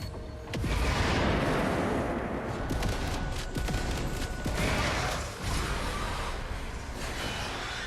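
Grenade blasts and heavy gunfire in Alien: Rogue Incursion, a loud dense barrage of bursts and booms with a strong thump near the start and continuous rattling throughout.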